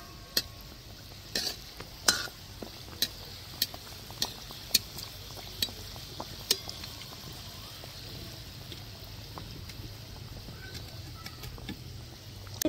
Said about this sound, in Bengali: আমি আস্তে করে তুলে নিব আর এক এক করে সব নিমকিগুলো আমি ভেজে নেব